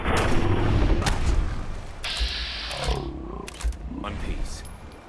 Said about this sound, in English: we put some more rounds into them from our trusty rifle